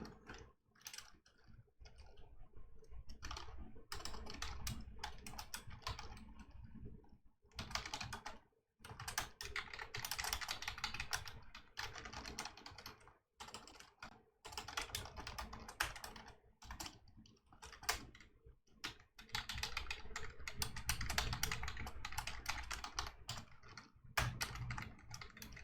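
Typing on a computer keyboard during a 2D animation programming session: steady close bursts of rapid key clicks with brief pauses between runs, no talking.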